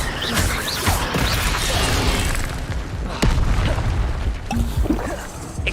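The Incendio fire spell blasts in Hogwarts Legacy amid dense, continuous booms, crackles and whooshing combat effects, loud and unbroken from start to finish.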